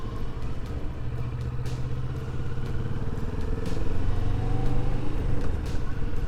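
Motorcycle engine droning steadily with a low rumble while riding along a wooded road in fall, loud and close, swelling slightly partway through.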